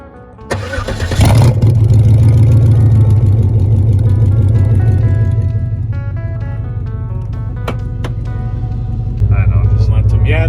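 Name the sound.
Cadillac engine starting and running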